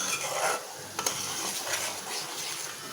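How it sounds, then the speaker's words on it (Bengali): Onions and vegetable stems stir-fried in a pan, with a close, steady sizzle under the scrape of a spoon stirring, and a brief clink of utensil on metal near the one-second mark. "তো এই যে এটা আমি ভালো করে কষায় নিব।"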